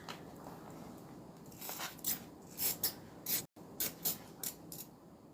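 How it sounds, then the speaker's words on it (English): Seam ripper and scissors cutting through a fabric seam on a crossbody bag, a series of short crisp snips and crunches, close and distinct, with a brief break midway. "seam ripper to get started and then switch to my scissors"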